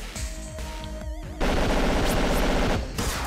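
Missile attack in the Megabyte Punch video game: a warbling tone and rattling bursts, then a loud, dense roaring barrage of rapid explosive crackle from about halfway on, dropping off just before the end.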